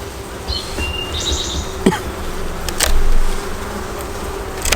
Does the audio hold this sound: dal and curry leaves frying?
no